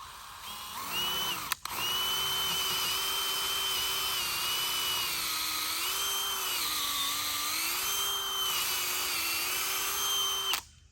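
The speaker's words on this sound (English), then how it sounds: "I'm going to go ahead and come up here just a little bit and then drill this out" A power drill whines steadily for about nine seconds while drilling a hole in a metal gate pole, pitch dipping slightly under load, close and loud, ending abruptly.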